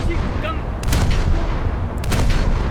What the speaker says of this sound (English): the gun sounds will be quite loud on Ayanami